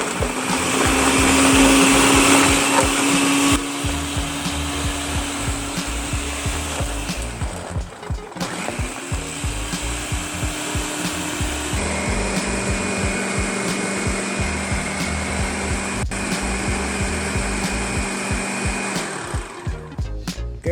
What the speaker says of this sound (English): And we're gonna blend on high for about 45 seconds to a minute.